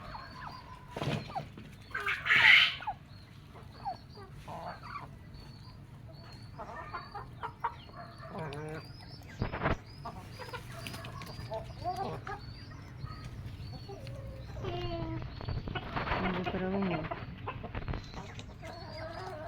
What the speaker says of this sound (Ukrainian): Чубата курочка така є.